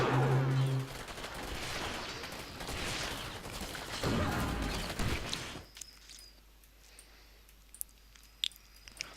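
Shredder turrets firing in a video game battle, a dense, sustained roar of rapid gunfire that cuts off after about six seconds, leaving a quieter spell with a few sharp, scattered clicks.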